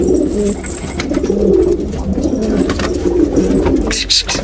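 A crested pigeon coos in a repeated, rhythmic low call inside a coop, close and clear, with a voice talking faintly in the background and a brief rustle near the end.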